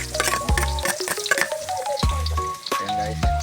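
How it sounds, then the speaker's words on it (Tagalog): Onion and garlic sautéing in a pan, a loud steady sizzle with repeated scraping and clanking strokes of a utensil stirring against the metal, close up and without speech. "Igigisa ko muna sa sibuyas bawang"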